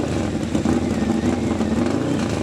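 A drag racing motorcycle at an AHDRA event roars loudly and steadily close by, engine held at high revs throughout with a continuous, dense rasp.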